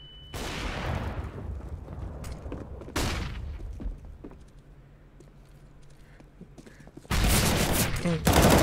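Rapid rifle fire and headshots in a CS:GO pro league match: several loud bursts of shots separated by quieter stretches of faint game noise, with a heavy volley at the end and no talking.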